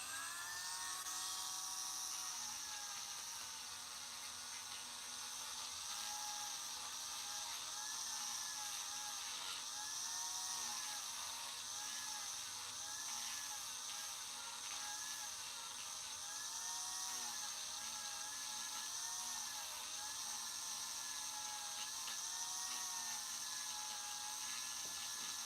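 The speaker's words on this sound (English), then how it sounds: "Just a little more sanding." A small rotary power tool sands beastman miniature model parts with a continuous, high, whining buzz that wavers slightly in pitch, steady and close, with no talk.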